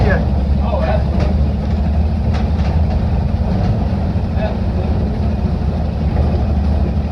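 A 1960 Grumman Olson van's engine drones steadily while driving, a loud low rumble filling the cabin as someone briefly speaks over it.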